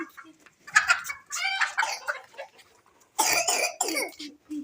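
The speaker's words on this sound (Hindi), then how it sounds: "तो मुर्गे को अंदर करो।" Chickens cluck and squawk nearby in uneven bursts at a village home, mixed with what sounds like coughing and throat clearing.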